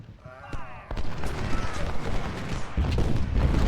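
Cannon and musket fire crackle and boom in a Civil War battle at Harpers Ferry in a strategy game, with sharp reports early on and then a dense continuous rumble of gunfire building in loudness.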